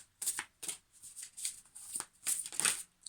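Lemurian Starchild oracle cards being shuffled by hand, a run of crisp riffling bursts in an uneven rhythm, close and fairly soft, with no talking.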